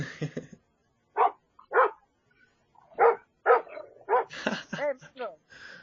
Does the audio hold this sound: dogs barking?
yes